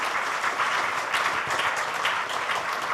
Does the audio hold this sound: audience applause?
yes